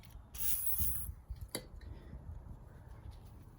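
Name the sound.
squirt of spray lubricant on a motorcycle foot peg bushing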